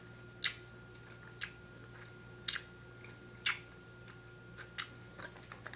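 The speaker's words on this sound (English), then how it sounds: "I'm chewing in now." Black Forest fruit snacks with juicy burst centers chewed close up, giving about seven soft, sticky clicks at roughly one-second intervals over a faint steady hum, with no talking.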